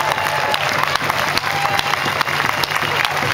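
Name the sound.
audience applause for communities opposing pipeline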